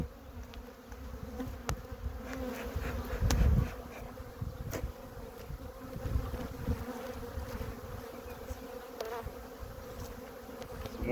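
Honey bees buzz around an open hive during an inspection, a dense, steady hum close by with occasional louder passes and faint handling knocks, no voices.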